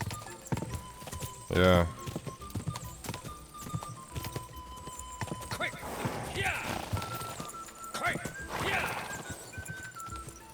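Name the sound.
horse galloping in video game Kingdom Come: Deliverance II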